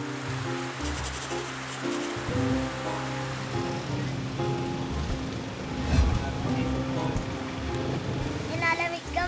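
Steady rain falling outdoors where street vendors are selling, a dense continuous hiss with low rumble throughout, loud and close, with no talk.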